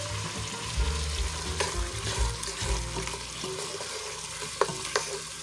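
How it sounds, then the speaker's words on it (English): Garlic and onion saute in a pan for beef stew with a soft, steady sizzle, accompanied by low rumbling handling sounds and a couple of sharp utensil taps near the end. "we're going to let that saute for 5 minutes"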